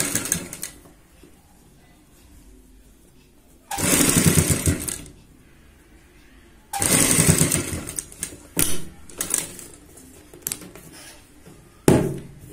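A sewing machine stitches a kurti neck in two loud, close bursts of rapid needle chatter, followed by several shorter runs and clicks amid quiet fabric handling.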